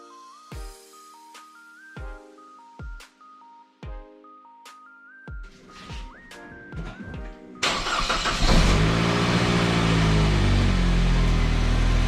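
A Saab 9-5 with electrical faults, including an ABS module P1625 fault, sounds a run of close electronic warning chimes in stepped tones, then its engine cranks and catches into a loud, steady idle.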